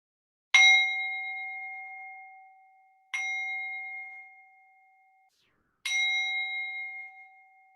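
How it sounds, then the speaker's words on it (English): A small bell is rung three times at a Holy Week liturgy, each clear ding ringing on and decaying slowly, spaced a few seconds apart in a quiet room. "I will begin the liturgy ringing the bell 3 times."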